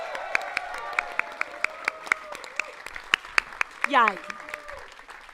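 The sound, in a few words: audience applauding volunteers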